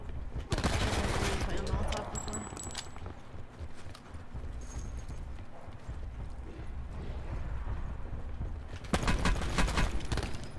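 Video game gunfire on Alcatraz, rapid bursts of shots at the start and end with scattered mechanical clatter between, fairly faint and mixed with background game noise.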